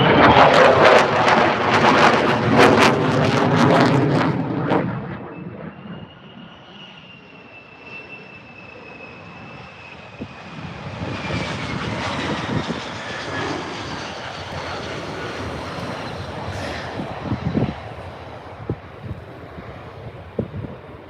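An F-35 jet flies over RAF Lakenheath, a loud, close roar that fades after a few seconds into a distant, thinning whine with gusty wind noise on the microphone.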